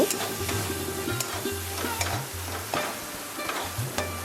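Fish with onion, tomato and chopped green chili being stirred in a frying pan, soft steady sizzle with repeated scraping strokes of the spoon, close and fairly quiet, no talking.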